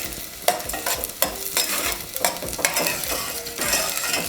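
Chickpeas are added to a pan with onions for sambar, a loud, close sizzle with sharp stir-and-scrape strokes about every half second, and no voices.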